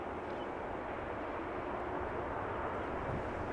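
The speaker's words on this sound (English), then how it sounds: "A320neo from EasyJet arriving there." An EasyJet Airbus A320neo airliner arrives at Amsterdam Schiphol, heard as a steady, broad jet roar at moderate distance, unchanging and unbroken throughout, with no voices.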